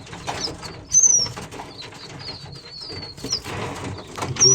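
Young pigeons with wing feathers coming in are being fed; soft cooing and brief chirps sound close by, with a few sharp calls and occasional wing flutters over a quiet background.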